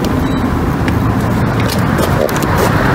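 A Nissan Silvia turbo with an aftermarket muffler idles with a deep, throaty exhaust rumble, steady and close throughout.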